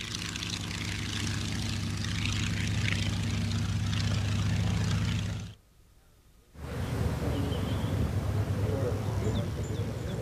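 A small propeller airplane for personal transportation drones steadily with a low engine hum and a buzzing propeller, then briefly cuts out before the engine noise returns, fairly loud and continuous with no talk.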